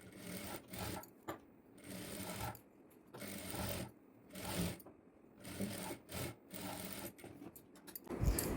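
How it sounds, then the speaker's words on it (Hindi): A sewing machine stitches a simple blouse, running in short uneven bursts with brief pauses between runs, fairly quiet and close. "अब इसको ऐसे पलटेंगे और इसके ऊपर 1 फुट की दूरी पे सिलाई लगाएंगे।"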